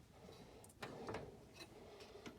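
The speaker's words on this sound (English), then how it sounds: "As you can tell, that drawer's heavy." A heavy metal storage drawer loaded with nuts and bolts slides open or shut in a workshop, a quiet rumbling glide punctuated by a few sharp knocks and rattles, with no voices.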